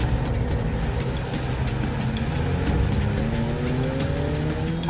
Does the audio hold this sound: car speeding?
yes